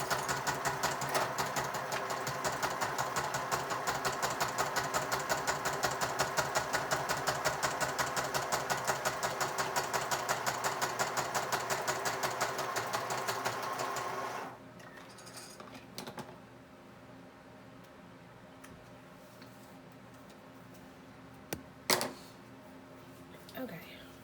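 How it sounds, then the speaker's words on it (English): A sewing machine stitches through a Little Golden Book cats journal in a fast, even, mechanical whir of rapid needle strokes for about fourteen seconds, then stops, leaving faint handling sounds and a couple of small knocks. "I'm going to sew this real quick, so it's going to be a little noisy for a little minute"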